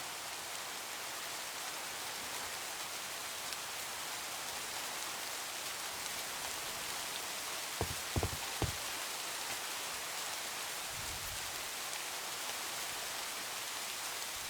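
Rain falls steadily in a video game, a soft even hiss of drops with a few faint thuds from movement partway through, no voices.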